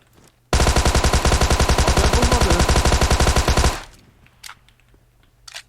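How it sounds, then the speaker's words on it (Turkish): Thompson submachine gun fire in PUBG Mobile on the Miramar map: one loud, close, sustained burst of rapid evenly spaced shots lasting about three seconds, then a quieter tail with a few faint distant clicks. "Thompson'la taradım"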